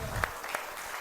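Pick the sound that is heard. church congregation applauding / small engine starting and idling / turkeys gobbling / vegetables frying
church congregation applauding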